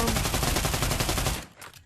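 An AKM rifle firing in the VR shooter Pavlov, a loud, rapid burst of automatic fire with closely spaced shots that stops abruptly, leaving a short fading echo.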